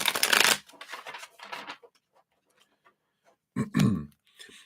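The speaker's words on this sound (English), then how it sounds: "Let me just shuffle these up one more time." A deck of tarot cards being shuffled by hand, a dense riffling burst followed by lighter flicks and taps, then a second sharp riffle and soft handling, close and with no talk.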